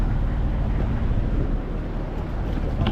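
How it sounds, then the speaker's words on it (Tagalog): A repaired boat engine runs smoothly and steadily, a constant low mechanical drone that fills the scene, heard close with some wind buffeting and no talk. "maganda na uli ang tunog ng makina natin"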